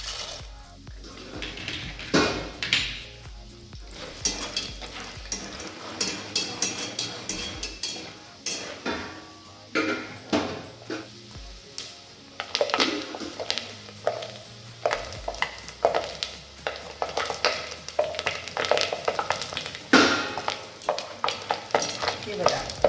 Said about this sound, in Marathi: चला आपण यामध्ये पॉपकॉर्न सोडूया हे बी त्यामध्ये आपण आता सोडून घेऊया